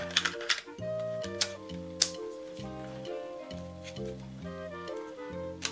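A repaired Sony WM-EX651 cassette Walkman plays a tape, giving a quiet stepping melody of sustained tones with soft mechanical ticks and clicks scattered throughout.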